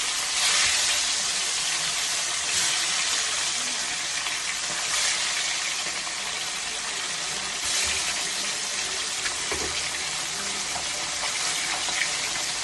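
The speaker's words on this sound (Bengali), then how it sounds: "তেলটা গরম হয়ে গেছে এবার মাছগুলোকে পরপর ভেজে নেব" Fresh parshe fish fry in hot oil, giving a loud, continuous hiss and sputter that stays even and close for the whole stretch, with no voices.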